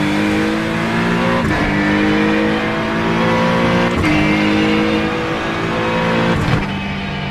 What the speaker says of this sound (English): if you've got your sound set up correctly, the Acura's not a bad sounding car